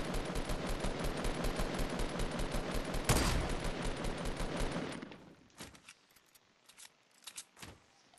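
Rapid automatic gunfire in Fortnite during a PS4 multiplayer match, a dense, loud, continuous burst for about five seconds with one sharp blast near the middle, then sparse scattered shots.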